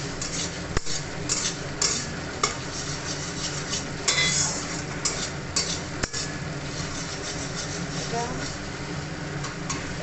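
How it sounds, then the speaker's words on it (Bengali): Gourd mash being stirred and fried in oil in a wok, with a metal spatula scraping and clinking against the pan in irregular strokes, some sharp knocks, and a faint sizzle. Someone talks throughout. "ওটা খালি এখন ভাজি কড়াইতে তেলের মধ্যে নাড়ি খালি"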